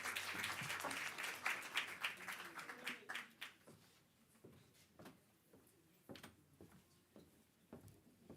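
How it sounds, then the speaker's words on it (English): Audience applause at a business conference opens fairly full, then thins over several seconds into scattered individual claps with sharp isolated hand taps toward the end. "Let's give him a round of applause"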